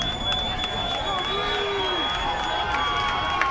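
A high school football crowd at an Evanston vs. Ben Lomond game, a distant, steady murmur of cheering and calls from the stands with whistle-like tones, a commentator's voice running over it.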